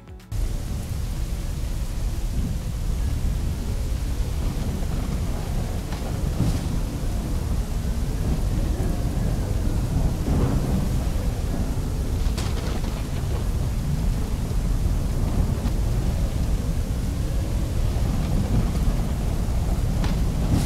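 Rain and thunder effects in a film-quality render: a dense, steady hiss of rain carries throughout, broken by a few low, distant thunder rumbles and crackles, with no voices.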